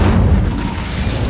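Incendio fire spell cast in Hogwarts Legacy, a short loud low whoosh-boom of flame bursting out and rumbling for about a second, with no voice over it.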